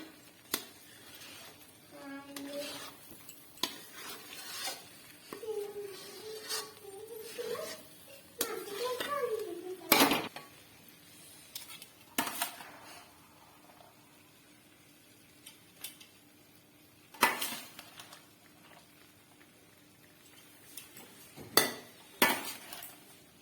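Aloo posto stirred in a pan over low heat: sparse scraping and clinks of a spatula against metal, quiet and intermittent, with occasional louder knocks.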